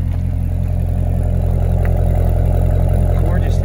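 A 2017 Chevrolet Corvette Grand Sport V8 runs at close range with a loud, steady, deep exhaust burble and slight revving, no voices over it.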